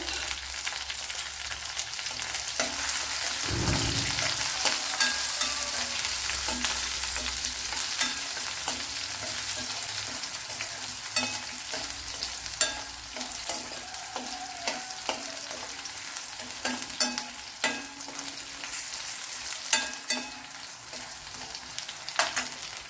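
Chopped ginger and green chillies fry in a pan with a continuous close sizzle, joined by occasional clacks and scrapes of stirring. It plays alone, without talking.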